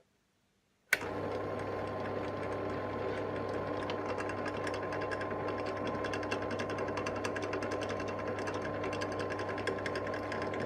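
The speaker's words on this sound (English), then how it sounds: "let the drill find the center of the hole" A drill starts abruptly and runs at a steady whirring drone with rapid mechanical chatter, boring a hole while fitting scales to a tapered tang knife, continuing unchanged for about ten seconds, close by.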